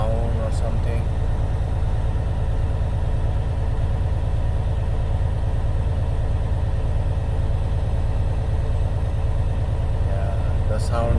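Steady, loud low rumble of a 2016 Freightliner Cascadia truck diesel engine running through a regen process, holding an even drone throughout with a faint brief shift near the start and end.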